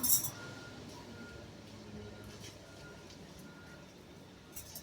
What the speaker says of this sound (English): Right outside, I know y'all can hear it. There is an army truck.